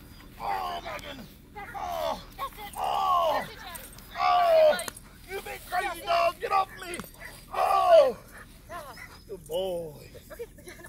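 A K9 police dog barks repeatedly in loud, close bursts during bite work training, trading with a voice calling out between and over the barks.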